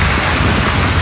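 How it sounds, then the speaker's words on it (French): A night hailstorm and thunderstorm near Paris at Tremblay-en-France roars as a loud, dense wash of hail and rain pelting surfaces, continuous with a deep low rumble underneath. "La grêle et l'orage une bonne partie de la nuit à Tremblay-en-France et sur la région parisienne."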